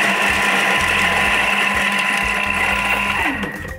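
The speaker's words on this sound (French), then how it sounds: "dans un premier temps, on va venir hacher l'oignon" A kitchen robot chops an onion with a steady, loud, high-pitched motor whir that pulses slightly and runs without a break before winding down at the end.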